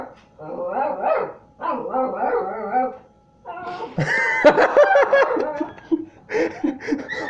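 A puppy barks and yaps in a string of bursts, loud and close, mixed with human laughter and snickering.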